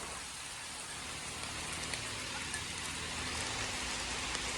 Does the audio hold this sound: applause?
no